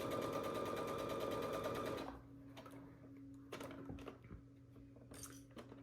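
A sewing machine stitches around a fabric oval on a stuffed plush toy. Rapid, steady stitching runs for about two seconds, then stops, leaving sparse nearby clicks and fabric handling.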